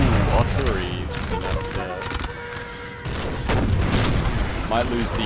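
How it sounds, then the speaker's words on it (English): Artillery booms and musket volleys ring out in a Napoleonic battle in Napoleon Total War, a dense, continuous crackle of fire with heavier blasts mixed in. Voices talk over the gunfire. "Ooh, artillery."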